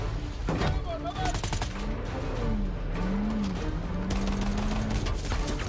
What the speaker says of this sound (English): So you drop the assault rifle to shoot double pistols for 3 seconds.